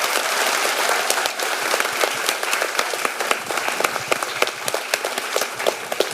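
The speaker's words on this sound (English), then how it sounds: "give an enormous round of applause to these gorgeous cast and creatives" Audience applauds the cast and creatives at a Calamity Jane play briefing, a dense, even burst of many hands clapping for several seconds with no voices over it.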